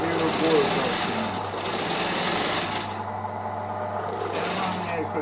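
An industrial sewing machine used for stitching leather shoe uppers runs steadily with a dense mechanical whir and rapid needle chatter, pausing briefly partway before running on.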